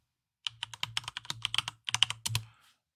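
Rapid, crisp keystrokes on a computer keyboard while a command is entered at a Windows command prompt to start PowerShell, an irregular run of close clicks lasting about two seconds with no talk.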